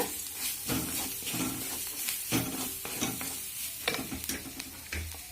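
Chilli powder and sambar powder being stirred in a hot pan, a spatula scraping repeatedly through the mixture over a steady sizzle of frying, close and continuous with no speech.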